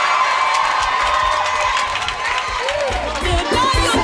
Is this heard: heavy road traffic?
no